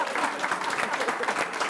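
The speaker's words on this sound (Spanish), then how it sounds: "Aplaudan los alumnos, por favor." Students at a university faculty ceremony applaud in a dense, steady burst of many hands clapping, filling the whole moment without a break.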